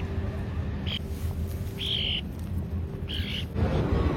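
Birds chirp and call in short bursts, about three distinct calls, near a Paris riverside walk while people feed them, over steady low city and crowd rumble.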